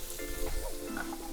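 Onions sizzling in oil in a hot pan, a continuous close crackle with a few stirring scrapes and clinks over roughly a second, no talk.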